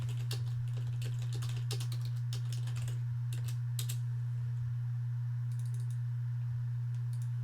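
Computer mouse buttons clicking in quick single and double bursts to select text, scattered sharp ticks over a steady electrical hum.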